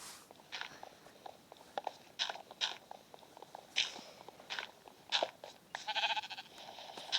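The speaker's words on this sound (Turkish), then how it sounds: "Aa koyun geldi öldürürsün." Sheep bleating in the Minecraft video game, several short game-sound calls scattered among chewing-like clicks and other in-game effects, fairly faint and with no talk over them.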